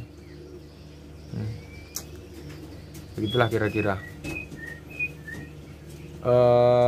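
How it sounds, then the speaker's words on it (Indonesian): A white-rumped shama (murai batu) in molt sings short, clear whistled notes and chirps in a quick cluster, near and moderately loud, between stretches of someone talking. "Jarang juga sebenarnya murai batu yang kondisi seperti ini gacor"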